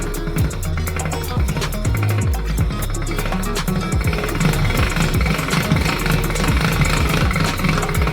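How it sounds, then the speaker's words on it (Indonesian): A hand-cranked dough roller machine presses marshmallow dough between its rollers, giving a loud, continuous mechanical rumble with rapid, repeating clicks and knocks throughout. "Kita arahkan lapisan adonan kita ke antara gulung-gulung dan putar penggangannya."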